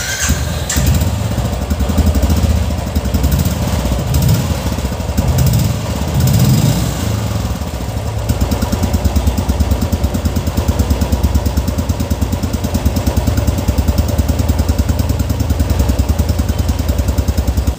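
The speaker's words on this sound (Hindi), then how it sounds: "जो आप सुनने वाले हैं आवाज़ स्टॉक साइलेंसर से सुनने वाले हैं इस बाइक के।" A Royal Enfield Classic 350 BS6 motorcycle with stock exhaust idles steadily and loudly up close, a low throbbing rumble with a rapid, even exhaust pulse that holds throughout.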